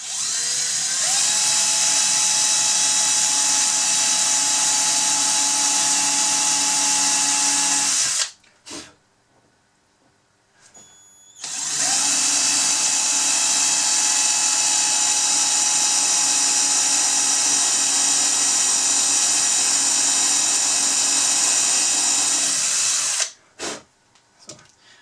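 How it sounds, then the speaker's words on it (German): An electric drill with a 1.5 mm bit whines loudly and steadily in two long runs, stopping briefly between them and ending with a short burst. No one speaks. "bohren wir hier jetzt weiter."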